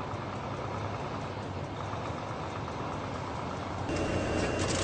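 A Volvo FH16 truck with iShift gearbox cruising gently at low engine speed, a steady broadband diesel drone and road rumble throughout, rising slightly in level near the end.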